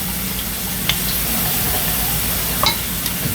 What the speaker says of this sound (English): Stir this.